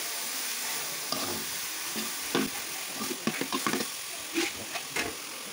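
Chopped banana stem and other vegetables fry in ghee in a pan, a steady close sizzle broken by several sharp scrapes and clacks of stirring, with no voices.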